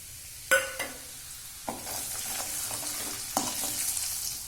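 Dry spices frying in hot oil in a wok for shingori aamti, a continuous crackling sizzle with sharp scrapes and knocks from stirring, close and alone without speech.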